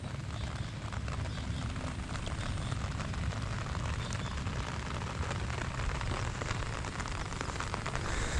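Steady typhoon rain pouring down on farm fields, a dense continuous hiss with low rumble throughout, no voices.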